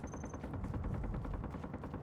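Automatic turret in a video game firing in a rapid, steady burst of gunshots, loud and continuous throughout with a faint high tone briefly at the start.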